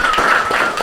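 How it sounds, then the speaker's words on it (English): Live studio audience applauding at an Aston Villa fan show taping, a steady dense wash of clapping filling the whole short moment at close, loud level. "Give yourself a round of applause"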